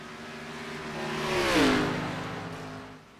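Race cars at Watkins Glen roar past on track, engines revving in a rising and falling pass-by whose pitch drops as the car goes by, loud and without talk.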